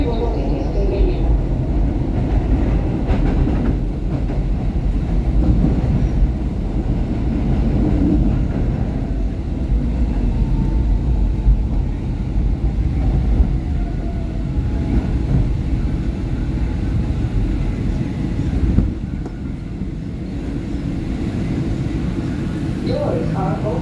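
A SEPTA Market-Frankford Line subway train runs between stations with a steady, loud low rumble and rattle throughout, easing slightly near the end.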